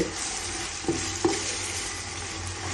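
Onions sauté in a pan for chicken biryani with a steady, close sizzle. A couple of stirring knocks stand out over the hiss.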